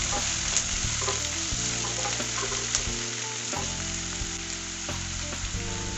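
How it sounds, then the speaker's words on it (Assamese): Chopped onions frying in hot oil in a pan, a dense continuous sizzle with spatula scrapes and stirring, close and loud with no voices. "তেল গৰম হোৱাত কাটি থোৱা পিঁয়াজখিনি দি অলপমান লৰাই দিলোঁ।"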